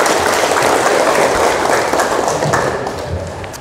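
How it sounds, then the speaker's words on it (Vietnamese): At a hospital clinic's discharge ceremony for cancer patients, an audience gives a loud, dense round of applause that stays full, then gradually tapers off toward the end. "chúng ta một lần nữa dành tràng pháo tay"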